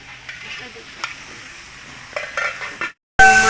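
Tomatoes are tipped into a pan of hot, sizzling ground spice paste while cooking a vegetable dish, giving a soft continuous sizzle with a few stirring clinks and a louder crackling burst at the end.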